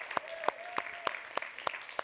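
A few people in a studio audience clap for the technical crew, giving single sharp claps at a slow, regular pace of about three per second.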